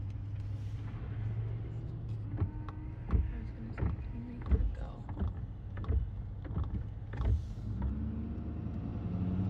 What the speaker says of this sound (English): it sounds like a big old bus